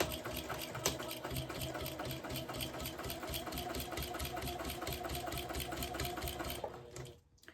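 A sewing machine stitches a vinyl tote bag, its steady rapid mechanical whir and needle clatter running continuously and close before stopping abruptly near the end.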